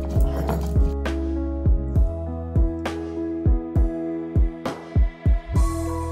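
Green and dried chillies are ground with water on a grinding stone: about a dozen heavy, rhythmic thuds of the stone repeat over a steady low hum, with the strokes quickening toward the end.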